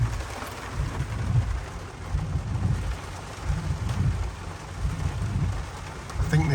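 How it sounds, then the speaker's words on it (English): Stormy weather at the Point Reyes coast brings a steady wash of rain and gusting wind, with low rumbling surges rising and falling throughout and no voices. "there's a bit of a storm going on."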